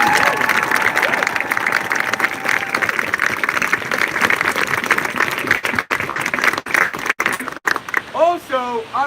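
Outdoor crowd at a Black Lives Matter protest in San Luis Obispo claps and cheers steadily for the protest leaders, loud and sustained, with whistles and a voice rising near the end as the applause breaks up.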